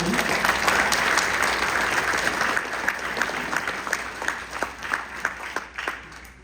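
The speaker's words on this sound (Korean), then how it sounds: "우리가 이 덜레스 장관님께 지금이라도 감사의 박수 한번 드려야 되지 않겠습니까?" An audience at a forum in Washington, D.C. bursts into sustained applause for Secretary John Foster Dulles, dense clapping that is loud at first and then thins into scattered individual claps.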